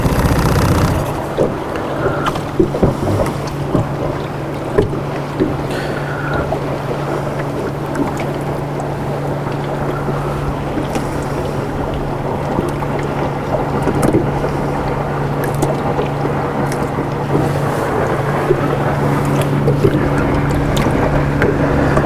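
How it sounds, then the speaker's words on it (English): A boat moves steadily across water, with a constant low engine hum, wind buffeting the microphone, and water sloshing against the hull. "got to slow the boat down a little bit"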